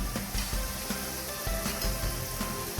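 Steady crackling sizzle of potato chips frying in hot oil, continuous and close, with occasional soft pops and no voices.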